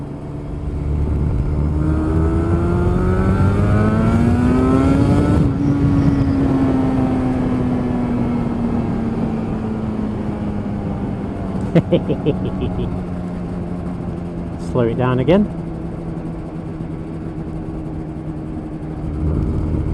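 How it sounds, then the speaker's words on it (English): Yamaha RD350 (RZ350 F2 YPVS) two-stroke motorcycle engine being ridden on a wet road, a close, steady buzzing drone that rises in pitch, then eases and settles, with a brief spoken remark over it. "It sounds like there are two single cylinder engines here."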